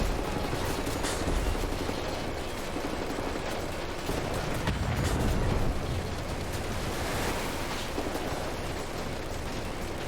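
Rocket launcher blasts in Wolfenstein: The New Order set off dense, sustained explosive rumble and crackling debris over about ten seconds, loud and continuous without clear breaks.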